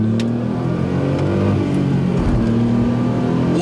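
A Smart car accelerates on a race track, heard from inside as a steady, rising engine drone with a brief dip and recovery midway, loud and continuous.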